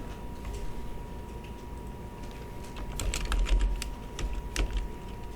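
Quick bursts of typing on a computer keyboard, soft clicking keystrokes that pick up in the second half, close and alone.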